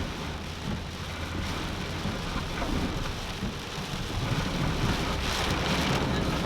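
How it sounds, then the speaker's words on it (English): Heavy rain pouring down during Tropical Storm Fay, a dense, steady, loud hiss of rainfall with a low rumble underneath and no voices. "very heavy rains here."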